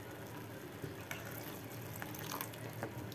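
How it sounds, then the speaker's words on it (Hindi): Water is poured into mashed potato ragda cooking in a pan, a continuous close splashing and sizzling wash with scattered small drips and pops throughout, steady and fairly loud. "थोड़ा सा पानी डालेंगे"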